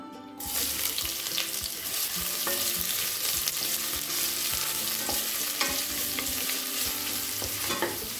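Sliced onions sizzle and fry steadily in a pan, with occasional stirring scrapes and clinks, close and continuous, no voices.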